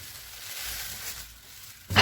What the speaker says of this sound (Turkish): tereyağımı aldım ocağa